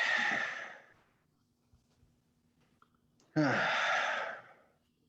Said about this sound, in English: just take a nice deep breath with me